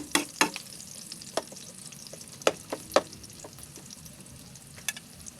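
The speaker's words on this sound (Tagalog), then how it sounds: "Lagyan natin yung bawang." Garlic sizzles in a hot pan for chicken-neck adobo, a steady frying hiss broken by several sharp clacks of the stirring utensil against the pan, nearby and without voices.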